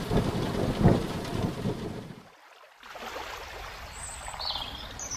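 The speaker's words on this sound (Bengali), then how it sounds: "রাত্রেও বৃষ্টি হলো খুব অবিশ্রান্ত জলধারা সারা রাত এক টানা চলল" Heavy rain pours down with deep rumbling thunder, loud at first, then easing into a brief lull before the steady downpour returns with faint high chirps.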